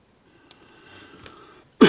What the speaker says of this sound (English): Can't get over my cough.